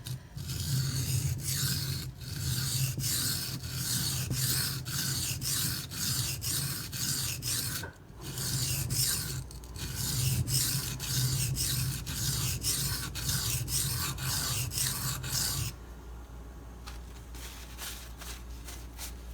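Benchmade 9400 knife blade sharpened on a Shapton Glass whetstone, heard as steady, rhythmic rasping strokes repeating roughly twice a second, close and continuous, ending in quieter ambient noise.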